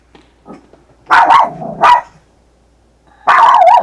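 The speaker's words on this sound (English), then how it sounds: "I have no idea what my dog is barking at." A dog barks in a few loud, close bursts: a faint yip, a quick double bark with a low growly edge, then another sharp bark after a short pause, in an otherwise quiet room.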